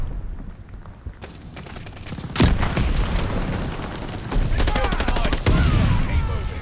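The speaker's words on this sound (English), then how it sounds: "that was a flashbang this time" A flashbang grenade goes off in the Call of Duty Vanguard video game, with sharp, loud blasts amid a rattle of continuous gunfire and battle noise.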